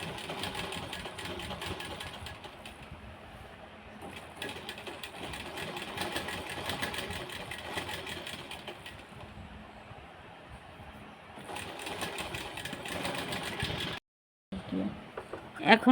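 A sewing machine whirs in long, steady stitching runs around the edges of a churidar, pausing briefly before a short final burst.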